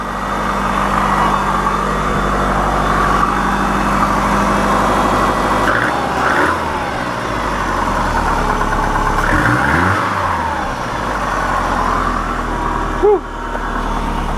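Turbocharged car engine running steadily close by, a loud continuous rumble with slight rises and dips in revs and a brief knock near the end, with a voice talking over it.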